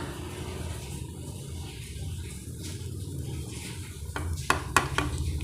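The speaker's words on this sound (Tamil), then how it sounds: "எல்லாத்தையும் நல்லா கலந்து விட்டுக்கோங்க" Ashoka halwa with cashews and raisins being stirred in a pan, giving a steady, soft scraping texture that continues throughout, with a few sharp metallic clinks of the spoon against the pan near the end.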